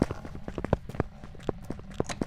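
Ghost footsteps in Phasmophobia thud in a quick, irregular run of close, moderately quiet steps across a short stretch, with no talking.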